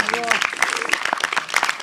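Applause from an audience at a youth meeting: a steady patter of many hands clapping, fairly close, with a voice speaking over it near the start.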